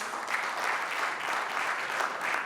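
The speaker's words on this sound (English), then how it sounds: "A round of applause." An audience at Polaris Bank's unveiling of VULTe gives a short, even round of applause, with steady clapping from many hands and no talking over it.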